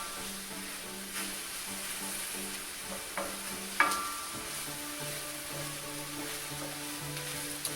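A flour roux for beef stroganoff cooks in a pan, giving a faint, even sizzle with a few soft utensil taps and one sharper clink midway, quiet and without voices.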